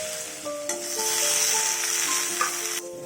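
Mixed vegetables with eggplant frying in a pan, a steady loud sizzle with a few stirring knocks and a faint tonal hum running underneath, no talking.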